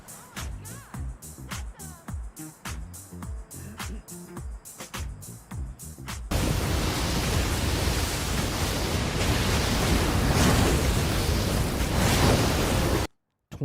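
Ocean waves in a video game trailer roar as a loud, steady broadband wash of surf after a rhythmic, pulsing music-like opening, holding until an abrupt cut near the end.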